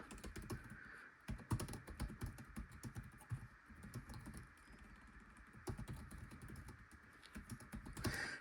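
Keys clatter steadily on an Asus TUF FX505 gaming laptop keyboard, a fast, continuous run of close, soft-to-firm clicks with a few heavier strokes and a faint background hum.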